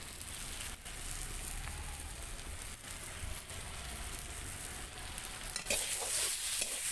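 Burnt potato and eggplant bharta stirred in a pan, a steady soft sizzle with a faint scraping texture throughout, growing slightly brighter near the end.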